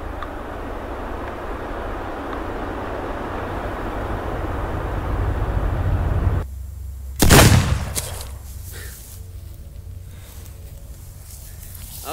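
A hard-kicking gun fires once, a sharp loud blast cutting through steady outdoor wind and rumble, followed by a brief decaying tail and quieter background.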